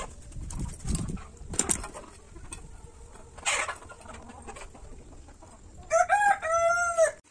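A country rooster crows loudly near the end after scattered soft clucks and rustling, the crow rising and falling in a long call.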